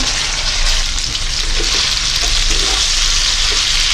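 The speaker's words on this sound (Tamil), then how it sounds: "நல்லா வதக்கி விடுவோம் இதை ரெண்டு நிமிஷம் மூடி விட்டு இதாவிய விடுவோம்" Vegetables, including potato, sauté in a hot pan for sambar with a steady, close frying sizzle that runs throughout, with no one speaking.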